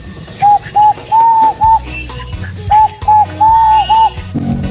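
A whistle carved from a hantap tree trunk imitates a turtle dove, repeating the same cooing phrase twice: several short, clear, soft notes in a steady rhythm, close and loud, with no talking.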